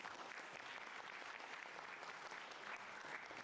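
An audience at a property investment tax seminar claps steadily in a continuous wash of applause, faint and distant throughout.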